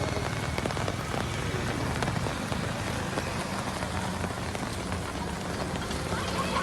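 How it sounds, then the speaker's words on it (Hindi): Steady heavy rain pours on surfaces in Nawada, Bihar, a dense continuous hiss that fills the whole stretch with no pause. "नवादा में भी बारिश हो रही है"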